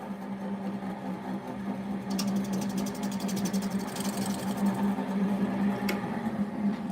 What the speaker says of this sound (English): I've got the Arbor Tech ball gouge. We're gonna try to fix it.